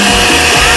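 A kitchen blender runs at full power while a lúcuma cake batter is prepared. It makes a loud, continuous whirring drone that stays steady for the whole moment, close by, with no talking.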